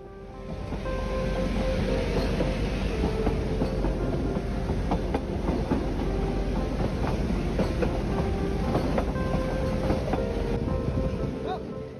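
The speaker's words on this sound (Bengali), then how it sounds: "এটা কিন্তু নীলগিরি মাউন্টেন রেলওয়েজ আপনার এই টয় ট্রেনটাকে বলা হয়।" Nilgiri Mountain Railway toy train running between Coonoor and Udagamandalam, heard from on board as a steady, loud rumble with rhythmic wheel clatter and rattling carriages that continues unbroken for the whole stretch.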